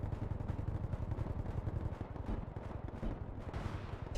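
Dense, continuous gunfire in the game Bellum, including a PKM machine gun, with rapid overlapping bursts and heavy rumbling shots filling the whole stretch with no talk.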